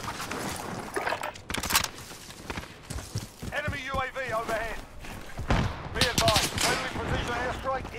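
Rapid bursts of MP5 submachine gun fire in a video game, repeated sharp shots mixed with busy game effects, with people talking over them.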